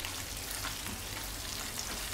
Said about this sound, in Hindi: अब हम इस तड़के को जो हमारी दाल बनी हुई है उसके ऊपर